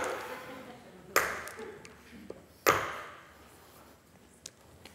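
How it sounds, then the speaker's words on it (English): A hammer strikes a rod held on a hardie, giving two sharp, ringing metallic clicks a second and a half apart, followed by faint ticks in a quiet room. "The way to tell if you're cutting right is the noise it makes."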